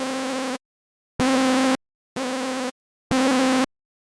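A completely dry hardstyle lead synth with no effects sounds four separate buzzy, harmonically rich sustained notes, each about half a second long, separated by silent gaps, fairly close and alone.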